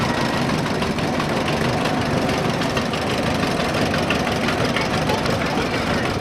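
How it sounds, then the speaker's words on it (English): An antique John Deere B tractor pulling an implement in a town sesquicentennial parade, its engine running with a steady knocking idle that stays loud and continuous throughout. "A John Deere B up next, pulling an implement."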